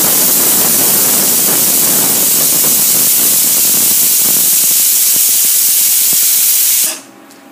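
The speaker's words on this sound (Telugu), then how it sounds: "మూడు విజిల్స్ వచ్చాయండి" Pressure cooker on a stove releasing a loud, continuous hissing steam whistle that holds steady for about seven seconds and then cuts off abruptly.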